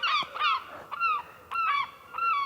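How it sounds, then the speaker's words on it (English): Seagulls call repeatedly over an allotment garden, a quick run of loud, nasal honking cries that come in close, rhythmic bursts with short gaps between them. "Okay, seagulls have come out to play."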